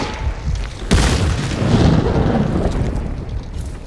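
A barrel in Hunt: Showdown is shot and explodes in a sudden loud boom, then leaves a long rumbling roar of burning debris that slowly fades.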